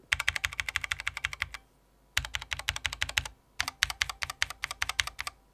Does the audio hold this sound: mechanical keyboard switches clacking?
yes